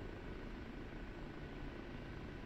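Steady broadband rotor and turbine drone of a helicopter, an OH-58D or AH-64D in a DCS flight simulator over an Afghanistan map, continuous and fairly loud with no voices.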